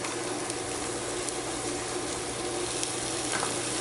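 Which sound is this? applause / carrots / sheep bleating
carrots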